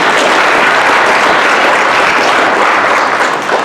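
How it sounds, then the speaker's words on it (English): A large audience at a Detroit blockchain and fintech pitch event applauds a sponsor, producing a loud, dense, continuous wash of clapping that holds steady throughout before easing slightly at the very end. "thank you, Warbly, for helping to sponsor this event. Give it a round of applause"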